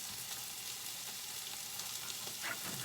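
Sausages with their casings on fry alongside onions in a pan, giving a steady, fairly quiet crackling sizzle throughout with a faint clink near the end.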